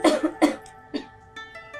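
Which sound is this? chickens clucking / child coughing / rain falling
child coughing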